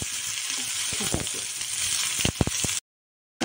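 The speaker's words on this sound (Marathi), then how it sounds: "आपण आता तेलात थोडं तेल टाकून घेतलेलं आहे आणि त्या तेलात कांदे टाकून घेतले" Onions sizzle in hot oil in a pan while cooking misal, a steady close frying hiss with a few stirring clicks before the sound stops abruptly.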